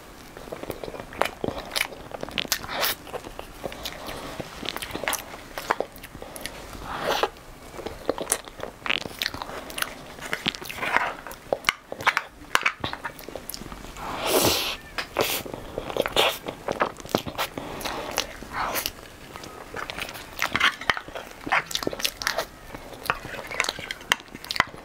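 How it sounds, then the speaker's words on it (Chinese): Crunchy bites and chewing of a soy milk box cake, a layered cream dessert eaten close to the mic, with steady soft crackles, crisp bites and spoon stirring over about twenty-five seconds, no talking. "先吃这个豆乳盒子。"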